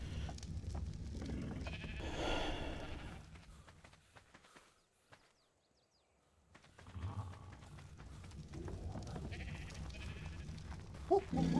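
Sheep in the ARK: Survival Evolved video game bleat faintly amid soft footsteps and ambient game noise, with a quiet gap partway through before the bleating sounds resume.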